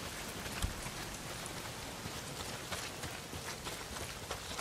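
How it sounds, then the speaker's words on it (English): Heavy rain pours down in the video game Days Gone, a dense, steady hiss with scattered drop patter, fairly faint and continuous throughout with no talk. "Well, not if it's pissing down rain."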